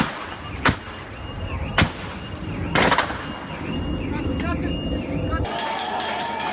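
Several sharp gunshot cracks ring out in a loose sequence, loud and close, over a noisy background of shouting voices and commotion.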